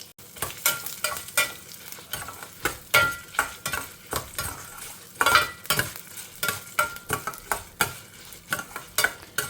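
Urad dal, pepper and red chilies fry in oil in a pan, a constant crackling sizzle broken by a rapid series of scraping, clattering strokes as a utensil stirs them, close up and with no voices.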